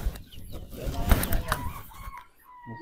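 Ready-to-lay layer hens on a large chicken farm cluck and squawk close by in a busy, irregular chorus with some wing flapping, while a person talks over them.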